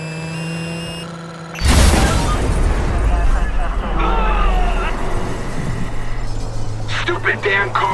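A car rams and crashes in the Watch Dogs video game, a sudden loud impact burst of crunching metal and debris with engine roar carrying on afterward.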